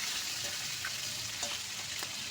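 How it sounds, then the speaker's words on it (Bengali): A large rohu fish head frying in oil, a soft steady sizzle with a few faint pops and crackles, close and quiet with no talking. "এপিট এপিট করে সুন্দর করে লাল করে কিন্তু ভেজে নিচ্ছি"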